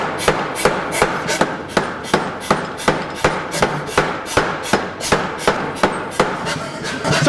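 A hammer strikes a hot steel bar being forge-welded into a basket-hilt rapier blade, landing about twenty sharp, ringing blows at a quick, steady pace, close and loud, with no talking.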